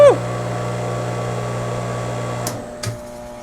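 A Mophorn 5HP 3450RPM electric compressor motor, standing unbolted on the ground, spins up with a rising whine and settles into a steady electric hum, broken by two brief clunks near the end.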